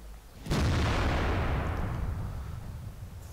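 An IS-4 heavy tank firing a shell in a tank combat video game, a single loud booming cannon blast that rolls off into a long rumbling decay, close and dominant, with no voices.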